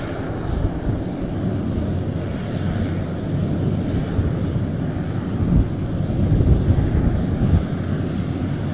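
An aircraft engine running up at Zhurihe airfield, a loud, steady low roar and whine that swells slightly over time and dominates the scene without talk.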